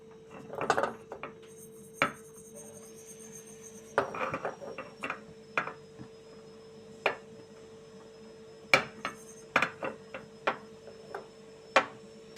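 Cumin and fenugreek seeds are dry-roasted in a pan without oil, with sparse, sharp metallic clinks and scrapes of stirring against the pan over a quiet background.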